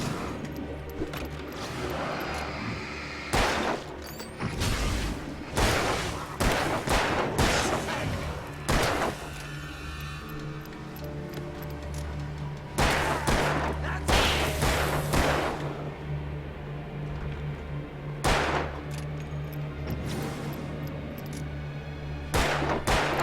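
Gunfire in the video game Alan Wake, sharp isolated shots and cracks scattered irregularly over a steady low hum, some louder and closer than others.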